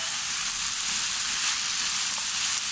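Chunky diced onion and bell pepper fry in a pan with a close, even, continuous sizzle that holds steady throughout with no voices.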